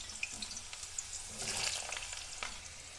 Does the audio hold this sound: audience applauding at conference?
no